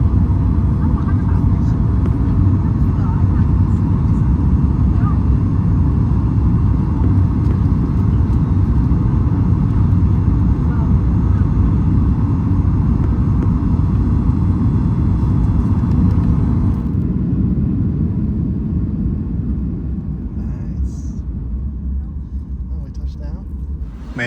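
A Southwest airliner taxis to the terminal, heard from inside as a loud, steady, low cabin rumble that eases toward the end, with voices over it.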